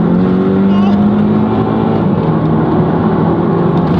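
An Audi TT with a DSG gearbox accelerates, its engine noise loud and steady inside the car, with a droning tone climbing gradually over several seconds.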